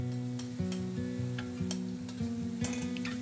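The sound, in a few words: stir-frying beef brisket ingredients in a wok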